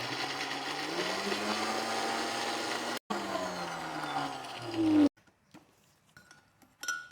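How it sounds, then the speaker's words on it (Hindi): Kitchen blender grinding two packets of Oreo biscuits into powder, a loud whirring drone for about five seconds with a short cut midway, then near silence with faint clinks. "अब यहाँ मैं इसको ब्लेंड करूँगी।"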